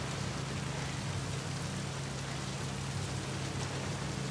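Steady rain falls in the video game The Last of Us Part 2 Remastered, a dense, even hiss of drops on surfaces that holds unbroken and fairly loud throughout, with no voices.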